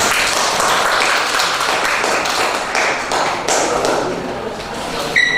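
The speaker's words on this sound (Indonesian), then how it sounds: "Tepuk tangan untuk kelompok" Classroom group receiving applause from students during a teaching practice session, a steady dense patter of hand claps filling the room for several seconds, with brief tapping near the end.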